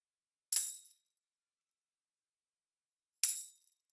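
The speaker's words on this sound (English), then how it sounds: "Tambourine is just playing an accent." Two isolated tambourine accents, each a bright jingling shake that decays quickly, spaced nearly three seconds apart against silence, close and clear with no voices.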